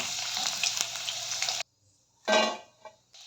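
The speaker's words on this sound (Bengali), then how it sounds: "চিকেনগুলো খুব সুন্দর করে ভেজে নিয়েছি।" Chicken pieces fry in oil in a kadai with a loud, steady sizzle. The sizzle cuts out abruptly, then returns in a short burst.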